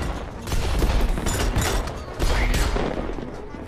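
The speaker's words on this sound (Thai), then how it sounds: "ยิงแบบซุ่ม" Bursts of rapid gunfire from sniper shots in the Worms video game, loud and dense, coming in two sustained volleys with a brief dip between them.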